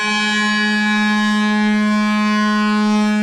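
Mutable Instruments Elements synth modelling a bow on a string: one steady, sustained buzzy tone held at a single pitch, loud and close, with no break or talking.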